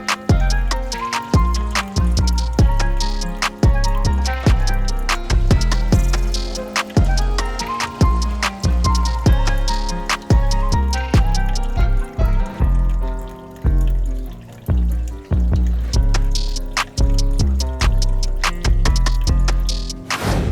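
Small hang-on-back filter running on a freshly set-up planted aquarium, water trickling and splashing in a continuous bright patter with dense dripping ticks, close and steady with no voices.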